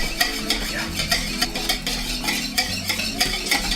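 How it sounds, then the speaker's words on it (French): Purée being mixed into vegan, gluten-free biscuit dough in a bowl, a close, steady stirring with repeated soft rhythmic scrapes and taps roughly every half second. "il faut que la purée soit bien mélangée pour que ça fasse un mélange super homogène"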